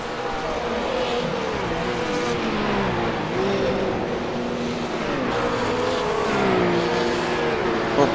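GT3 race cars, including a McLaren, lapping Road Atlanta in a racing sim: steady, loud engine drone with rising and falling revs and gear changes as several cars run close, under a commentator's voice.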